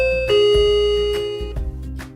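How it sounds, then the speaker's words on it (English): A digital doorbell chime plays a ringing melody of several bright, sustained tones one after another, loud and close, with no talking over it. "If the sound your doorbell makes is more of a melody,"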